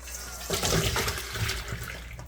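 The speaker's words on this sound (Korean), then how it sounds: "오이 이제 뜨거운 물에 이렇게 해놓은 거예요. 이런 체에다가 쏟으세요." Hot water and cut cucumbers poured out of a pot into a sieve in a home kitchen, a steady rushing splash lasting a couple of seconds with no voices.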